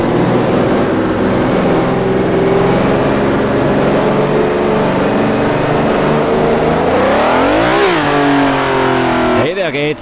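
Race car engine in Assetto Corsa droning loudly and steadily at high revs during laps, then a sharp rev swing around a gear change or braking, with a brief wavering pitch sweep near the end.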